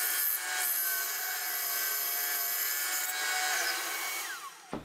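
A bandsaw fitted with a 6 TPI blade cuts through wood with a loud, steady rasping whine that holds for about four and a half seconds, then stops abruptly as the cut finishes.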